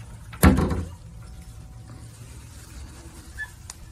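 A closet door in a cruise ship cabin slides with one sharp, close rolling scrape near the start, then a quiet room hum with faint small clicks follows.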